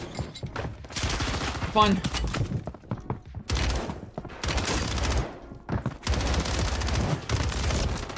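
Rapid gunfire bursts from the video game Warzone crackle in loud, dense volleys with short gaps between them, while a player speaks briefly over the shooting.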